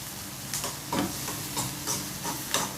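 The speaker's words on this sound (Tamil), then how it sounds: "அந்த வெங்காயம் வந்து அந்த டிரான்ஸ்பரன்ட் ஸ்டேஜுக்கு வர வரைக்கும் வதக்கணும்" Onions sauté in a hot pan for a spicy masala egg omelette, sizzling steadily while a utensil stirs and scrapes in several soft, regular strokes close by, with no talking.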